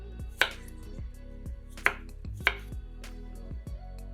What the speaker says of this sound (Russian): Огурцы нарезаем небольшими кусочками вот таким методом.